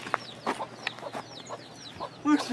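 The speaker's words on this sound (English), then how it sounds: "There's some chickens outside." Chickens at an animal sanctuary clucking outdoors, a few short close calls scattered across a quiet background with a louder burst of clucks near the end.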